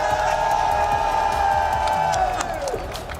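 Crowd cheering and whooping at a Call of Duty esports finals in an arena, a sustained loud roar with scattered shouts and clapping, a bright tone running through it before the noise tapers slightly.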